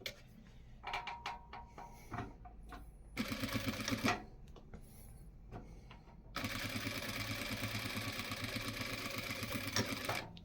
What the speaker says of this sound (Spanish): Hay que dar el remate siempre en las costuras, acuérdense. Vamos a darle.